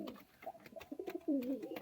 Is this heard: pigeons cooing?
yes